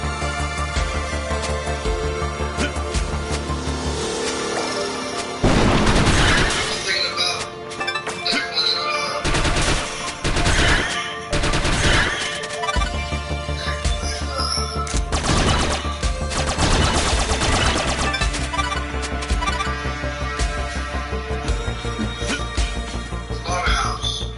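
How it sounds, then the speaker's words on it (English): Assault rifle fire in the side-scrolling game The Mummy Demastered, loud rapid bursts of gunfire repeating across the clip over a constant game music bed, with brief pauses between volleys. "I'm going to play with this assault rifle just for a little while"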